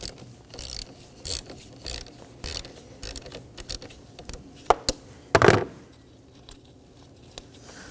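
Someone loosens the positive battery terminal nut on a 2015-2023 Nissan Maxima 3.5L V6 with a ratchet. Close, dry clicking and metallic ratcheting come in short uneven bursts, with a sharper clack near the middle.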